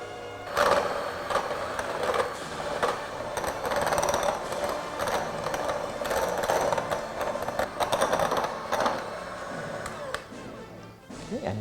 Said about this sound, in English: Now we're going to beat all of our ingredients here together on a high speed. I'm just using a hand mixer for 12 to 15 minutes.